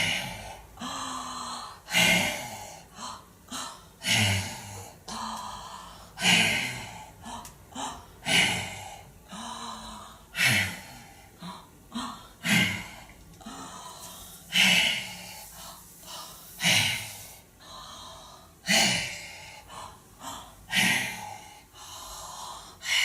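Close, loud breathing during a breath-focused body work exercise: sharp inhales and forceful exhales repeat in a steady rhythm about every two seconds, with some snort-like bursts, and no talking.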